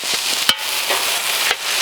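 Beer brats sizzle on a grill, a steady close hiss of frying fat broken by a couple of sharp pops, no voices.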